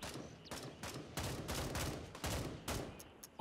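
Automatic gunfire in a DayZ- and Tarkov-style shooter, rapid repeated bursts of shots in a steady rhythm, close and sharp, with no talking.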